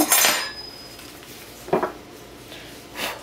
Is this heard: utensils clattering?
yes